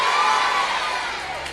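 Tamil church congregation in a worship service raises a loud, brief collective shout of praise, voices blending into one sustained roar that fades slightly toward the end.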